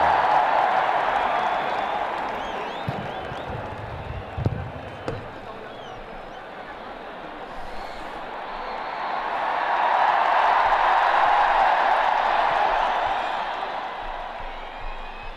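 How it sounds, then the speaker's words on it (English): A large crowd at the Namaste Trump rally in India cheers and roars continuously, swelling loud at the start, dipping briefly, then rising again to a sustained distant roar. "Listen to that crowd."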